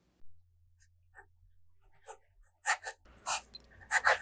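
Pilot Metropolitan fountain pen with a 1.0 stub nib writing in a Field Notes steno notebook: faint, sparse nib scratches that build into louder scratchy strokes toward the end, no talk.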